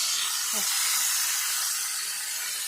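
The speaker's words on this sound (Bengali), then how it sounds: "এখন পটল ভাজা হচ্ছে, এই যে পটলটা ভাজলেই ভাত দিয়ে দেবো।" Pointed gourd (potol) fries in a pan with a loud, continuous hissing sizzle that holds steady from start to finish.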